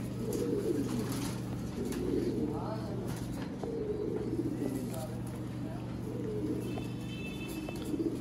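Pigeons in a loft housing flying breeds, cooing in soft repeated low throaty phrases, near and steady, under a constant background hum with occasional passing chatter nearby.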